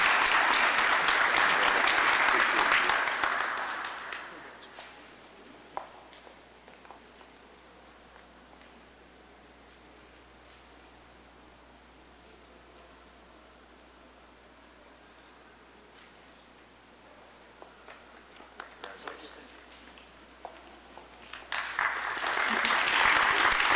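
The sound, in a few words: audience applause at an awards ceremony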